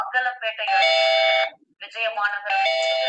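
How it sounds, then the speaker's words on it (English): A doorbell plays a long, loud chime tune twice, each ringing melody lasting over a second, with a brief pause between them. "they heard the doorbell ring"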